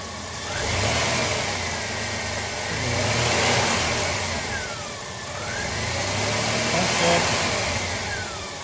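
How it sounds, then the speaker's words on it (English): A Jeep CJ engine, just fitted with a new PCV valve, idles and is given gas in a few rising and falling revs, close and fairly loud. "All right, we'll see if this works. Give it a little gas."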